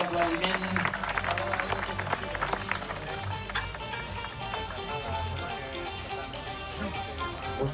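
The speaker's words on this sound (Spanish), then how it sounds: "un fort aplaudiment" An audience applauds at a trial bike event, a dense patter of many hands clapping with crowd noise, steady and moderately distant throughout.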